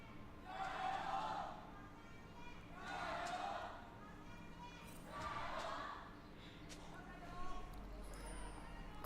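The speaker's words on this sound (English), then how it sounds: "Crowd's alive today. It's good to hear." A live arena crowd at an LPL League of Legends esports match swells in repeated waves of cheering and chanting, roughly rhythmic, heard at a distance behind quieter commentary.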